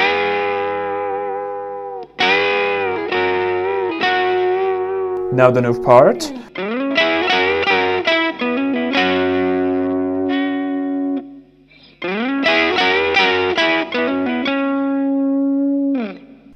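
Loud distorted electric guitar plays sustained chords and notes soaked in delay and echo, with a brief spoken remark in the middle.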